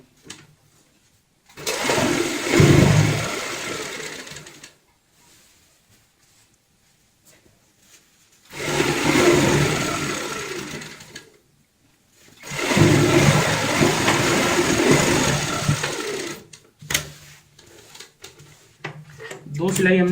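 A sewing machine stitching straight seams on a round cushion cover, running in three loud steady bursts of a few seconds each, separated by pauses with handling noise and someone talking.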